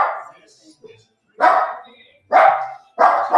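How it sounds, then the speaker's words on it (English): A sister's dog barking as someone comes home, four loud, close barks spaced about a second apart, the first slightly softer, with near silence between them. "That's my sister's dog, by the way"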